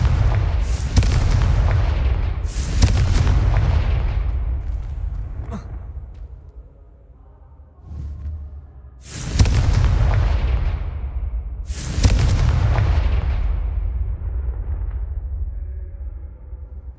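Fire-spell explosions from the Hogwarts Legacy video game: four loud, booming blasts at uneven intervals, each with a long rumbling decay, and a quieter muffled thud between them.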